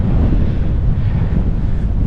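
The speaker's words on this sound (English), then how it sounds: "Oh, winds have picked up." Strong wind buffets and roars across the microphone on a hilltop in the Mendip Hills, a constant loud rumble with no voices.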